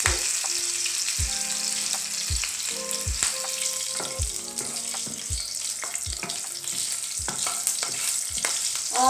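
Green chilies sizzling in a tadka tempering for mash dal, a continuous crackle of hot oil broken by regular spoon stirs and scrapes against the pan, heard close, with no voices.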